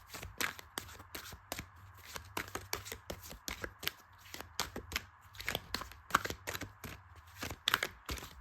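Cards being shuffled repeatedly, a rapid ruffling clatter in quick bursts, close and fairly quiet, with no talking.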